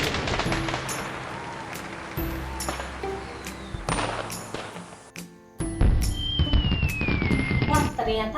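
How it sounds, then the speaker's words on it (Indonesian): Fireworks exploding in a series of loud bangs and crackling bursts with rising whistles, mixed with game-like effects and a voice speaking nearby. "ternyata suara kembang api"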